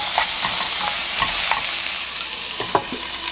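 Onions frying in a pan over high heat, a loud continuous sizzle with scattered spatula scrapes and taps as they are stirred, close up and with no talking.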